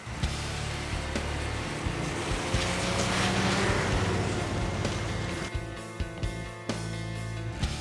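A snowmobile ride through Parc Jacques-Cartier in Québec: a steady, loud engine drone with wind rush carries throughout, easing slightly near the end with no talking.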